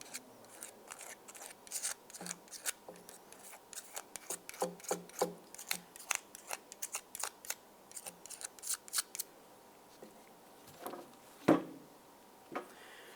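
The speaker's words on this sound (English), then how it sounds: "Use a flat blade razor. We'll hold this sideways and gently scrape everything off." Thin blade scraping carbon deposits off an engine part on a 2010-2013 Ford Transit Connect during knock sensor replacement, close up as a quick series of short dry rasping strokes, then a few louder scrapes and clicks near the end.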